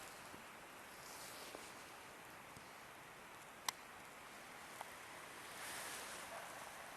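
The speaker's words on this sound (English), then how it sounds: "Oh, and you can hear the waterfall." A waterfall heard from a mountain viewpoint as a steady, faint broadband rush of falling water, with wind buffeting the microphone and a couple of small clicks, no talking.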